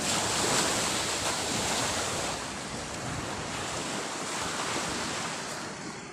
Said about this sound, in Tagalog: Sungit yung dagat niya. Malakas.